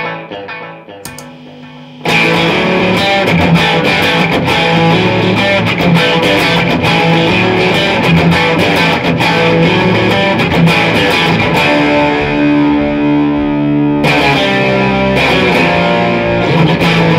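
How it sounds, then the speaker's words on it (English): Electric guitar played through a Cornish-modded Tube Driver pedal set for distortion, starting with a quiet pick after a brief pause and then becoming a loud sustained overdriven passage of chords and notes with no talking. "TD as distortion"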